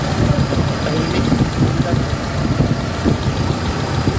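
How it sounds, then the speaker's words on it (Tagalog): A car engine idles close by with a steady low rumble and a faint uneven knock, and a person talks over it. "Ayan, narinig yung makina."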